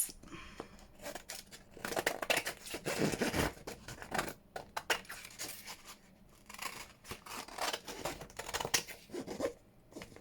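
Scissors snipping around scraps of paper for Tim Holtz flip-out journal inserts, a close run of irregular crisp cuts and rustling paper handling that rise and fall in bursts, with no talking.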